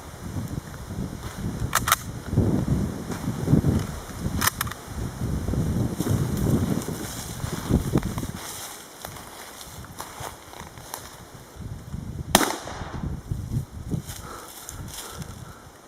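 A TOZ-106 rifle, just repaired after misfires, fires outdoors at road signs. A few sharp, isolated cracks are spread apart, with rustling and movement between shots and no talking.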